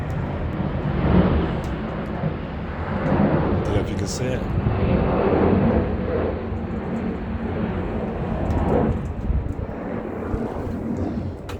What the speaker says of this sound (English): there's a plane going over, I think.